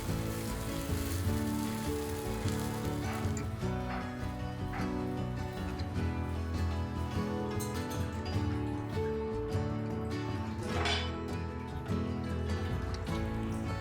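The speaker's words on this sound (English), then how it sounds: "I'll cook this whole thing for 6 to 7 minutes until the sabudana pearl turns" Sabudana khichdi cooks in a pan with a soft, steady sizzle and crackle, partly buried beneath louder background music playing throughout.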